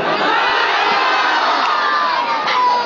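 A large crowd at a naat gathering roars 'Subhan Allah' together in a sustained, loud mass of voices, a continuous unified shout that holds steady throughout without pause.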